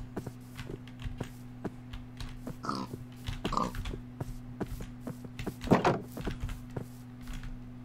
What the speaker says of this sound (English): Now I just need pigs. Oh, look, pigs!